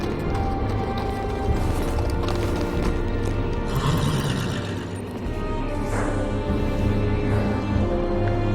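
Horse hooves clip-clop and a horse whinnies in the Game of Thrones video game, set near the Wall, with steady hoofbeats under a dense, loud layer of game ambience and music throughout.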